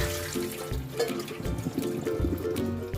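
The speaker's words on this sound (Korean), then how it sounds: "씻은 가지는 소쿠리에 받쳐 물기를 빼줍니다." Water trickling and dripping from rinsed eggplant resting in a colander, a soft, steady splashing trickle heard close up and fairly quiet.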